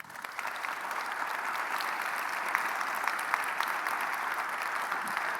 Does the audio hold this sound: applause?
yes